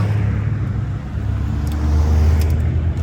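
Race cars roll onto the Oulton Park circuit on race day at a French car meet, a steady, loud low engine rumble with no talk.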